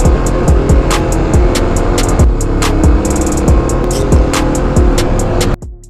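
Kawasaki KLX250 motorcycle climbing a rocky off-road trail, its single-cylinder engine revving loud and close with a rapid, pulsing rise-and-fall rhythm of throttle bursts, then cutting off abruptly at the end.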